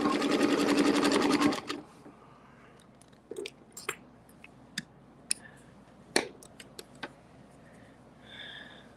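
A sewing machine stitches in a short, fast burst at the start while a quilter guides fabric around a circle with a ruler tool, followed by scattered clicks, taps and light handling noises.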